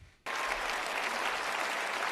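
Loud, dense applause from a live audience bursts in after a brief quiet moment and holds steady as sustained clapping, with no voices on top.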